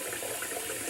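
Water runs from a tap into a glass being refilled, a faint continuous splashing hiss lasting under a second.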